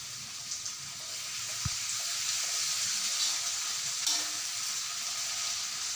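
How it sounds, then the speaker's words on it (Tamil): Chopped tomatoes fry and sizzle in a pan for a Malaysian nasi lemak sambal, a steady soft hiss with a few light stirring scrapes and taps, no talking. "தக்காளியை அதில் ஆட் பண்ணிக்கிட்டு மீண்டும் வறுக்கணும்"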